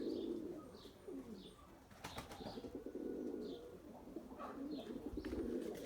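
Pigeons in an outdoor flying session give repeated faint coos and chirps under steady background noise, with occasional wing flaps and rustling.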